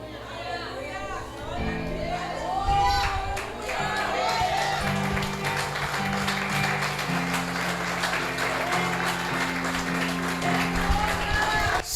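A church congregation claps and calls out during an evangelical sermon, steady crowd applause and chatter building beneath a preacher's loud voice and background music, continuing throughout.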